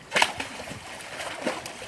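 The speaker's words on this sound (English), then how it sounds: "We'll see if we can get him to lunge up out of the water." An alligator at a gator show in Alabama lunges in the water, giving one sharp splash up close followed by lighter sloshing and dripping.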